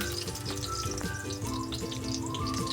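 Garlic and onion sauté in hot oil in a pan, a steady crackling sizzle with bubbling pops, heard close with faint background music.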